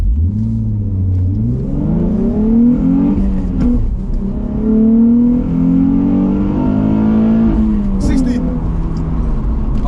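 A 2004 Nissan 350z launches hard with traction control on, its engine roaring close and loud as the revs climb repeatedly through the gears, with voices talking inside the cabin.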